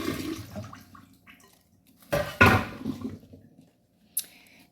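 Water runs briefly as hands are rinsed in a kitchen, with soft splashing that swells to a louder gush in the middle and ends in a short splatter.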